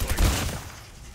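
Gunfire from a weapon in the mobile shooter Call of Duty Mobile, a loud burst of rapid shots at the start that trails off into a fading rumble, with no talking.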